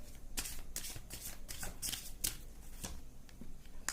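Tarot cards are shuffled close up, with a dense, repeated riffling flutter broken by sharper snaps, alone with no talking.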